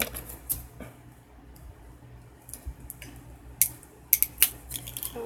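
Scissors snip through a strip of homemade washi tape in a few sharp, close cuts, scattered short clicks among quiet rustling and handling noises, no talking.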